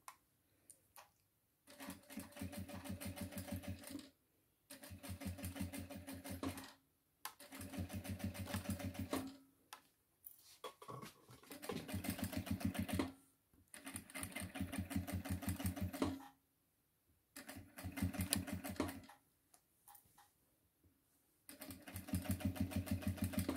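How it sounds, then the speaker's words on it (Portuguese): A sewing machine stitches bias binding onto a fabric placemat in repeated bursts of rapid, close mechanical whirring and ticking, each run lasting a few seconds and broken by short quiet pauses. "Eu vou segurando e vou costurando."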